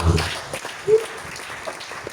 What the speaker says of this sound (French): Acclamons le roi.